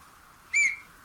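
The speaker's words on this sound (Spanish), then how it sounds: "El capitán hizo sonar el silbato." A single short, shrill whistle blast from a ship captain's whistle on a remote island lighthouse landing, sharp and clear against a faint steady background hum.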